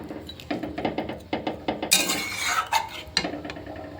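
A metal lid set onto a pot of potatoes cooking in water on a home stove, a run of sharp clinks and clatters of metal against metal, with a brighter scraping rattle in the middle, close and fairly loud.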